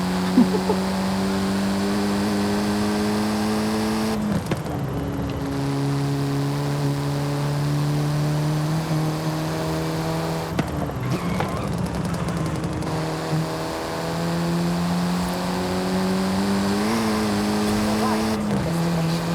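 A Mini John Cooper Works GP, a front-wheel-drive turbo four-cylinder, drives in Forza Horizon 5 with a steady engine drone that shifts pitch at gear changes. Someone talks over it.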